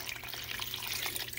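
Tap water pours steadily into a pot for chicken bone broth, a continuous close splashing rush with no pauses or voices.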